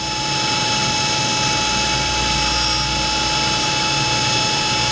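A large grinding wheel sharpens a metal tap in a machine shop, producing a loud, steady, high-pitched grinding whine that runs unbroken throughout with no talking.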